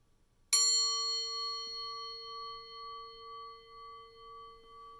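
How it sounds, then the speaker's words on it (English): A single meditation bell struck once, ringing out clear and sustained with a bright attack and a long, slowly fading tone in a quiet room. "we use the sound of the bell as a way to help transition our awareness"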